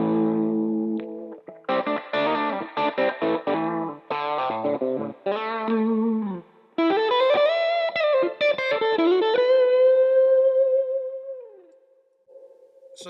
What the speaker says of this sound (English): It's the Analogue Man King of Tone.